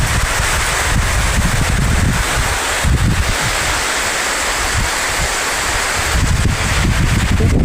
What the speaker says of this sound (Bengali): অত্যন্ত বৃষ্টি হচ্ছে, যে বৃষ্টি না বললেই নয়।